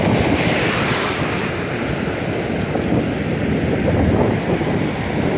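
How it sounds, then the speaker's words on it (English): Sea waves washing onto a shore, a loud, continuous roar of surf mixed with wind buffeting the microphone, swelling and easing without pause. "it's because of stupid waves."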